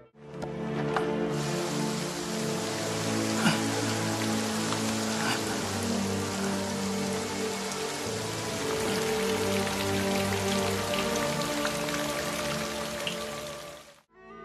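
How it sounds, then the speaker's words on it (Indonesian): Heavy rain pours down steadily, a dense constant hiss and patter of drops on surfaces, loud and unbroken for the whole stretch with no voices. "Hujan turun begitu deras"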